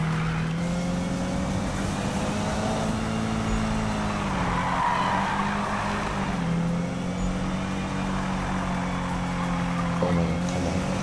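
Game-engine car revving hard while drifting in Need for Speed 2015, a loud continuous high-speed engine whine with shifting pitch and tyre-scrub noise filling the whole stretch, no talking over it.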